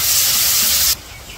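Onions and green chillies hitting a hot wok in a village kitchen, a loud broad sizzling hiss that cuts off abruptly partway through, leaving faint background.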